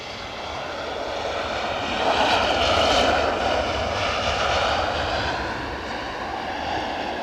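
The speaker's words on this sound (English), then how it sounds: "2 757s on finals" Jet engine noise from Boeing 757 airliners on final approach at Edinburgh airport, a loud continuous rumble and whine that builds to a peak midway and then tapers slightly, no talking heard.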